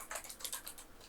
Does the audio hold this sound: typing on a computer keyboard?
yes